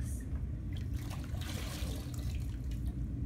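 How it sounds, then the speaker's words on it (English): A sponge is sloshed and squeezed in a bucket of dirty clay water at a pottery wheel, giving continuous close splashing, trickling and dripping. "you can kind of rinse out this sponge in this dirty water if you have any big chunks"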